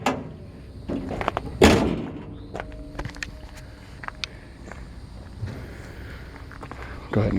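A single heavy metallic thud of a 1955 Ford F-100 pickup's hood slamming shut, followed by quieter clunks and outdoor ambience.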